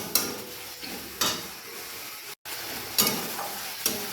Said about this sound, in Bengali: ভালো করে চিংড়ি মাছটা ভেজে নিতে হবে।